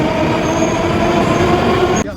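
A train rumbles past at a Moscow junction where three train stations meet, a loud, steady roar with a high wheel squeal, cutting off abruptly near the end.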